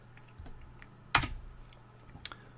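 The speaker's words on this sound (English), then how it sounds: "if you type in Casper Currency" A few sparse keystrokes on a computer keyboard, one sharp clack near the middle and a lighter tap toward the end, close and quiet over a faint steady hum, with no talking.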